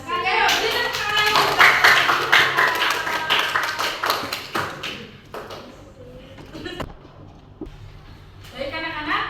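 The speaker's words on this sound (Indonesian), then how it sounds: "Ayo, beri tepuk tangan." Primary school classroom of children clapping together, a dense burst of clapping and voices for several seconds that fades into scattered taps and quieter murmurs, with talking mixed in.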